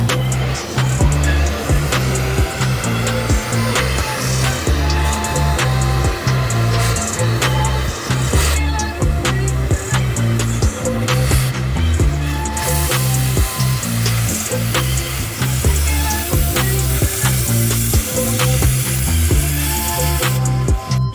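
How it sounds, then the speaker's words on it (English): Brackets being cut off the chassis of a burnout car under construction, a loud, continuous harsh grinding and chattering roar that runs unbroken throughout, close up. "I'm going to cut these brackets off and get ready for the 4-link brackets."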